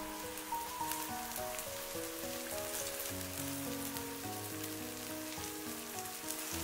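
Scallion, ginger, garlic and small chilies stir-fry over low heat in sesame oil in a clay pot, giving a quiet, even sizzle with steady tonal sounds underneath.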